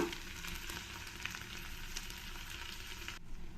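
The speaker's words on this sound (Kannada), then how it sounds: "ಒಂದು ಎರಡು ಮೂರು ನಿಮಿಷ ಆ ಬಟಾಣಿ ಎಲ್ಲ ಸ್ವಲ್ಪ ಎಣ್ಣೆಲಿ ಒಗ್ಗರಣೆಯಲ್ಲಿ ಸ್ವಲ್ಪ ಫ್ರೈ ಆದಮೇಲೆ" Green peas frying in hot oil during a tempering, a steady dense sizzle that holds close and even throughout with faint stirring, no voices.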